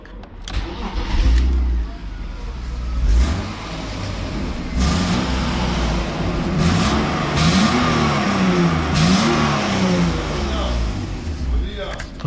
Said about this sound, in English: Let's start the car up now with the new exhaust.